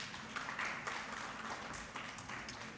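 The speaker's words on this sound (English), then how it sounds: "Kindly keep the applause going." An audience applauds at a World Hepatitis Day medical conference: a soft, steady patter of many hands clapping, faint and somewhat distant, continuous for a few seconds.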